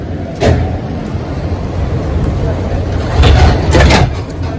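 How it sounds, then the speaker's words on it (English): Airport terminal tram doors slide shut with a couple of whooshing, rumbling movements over low vehicle hum, while people talk nearby. "Please stand clear of the tram doors."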